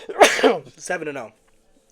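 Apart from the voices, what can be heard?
sneeze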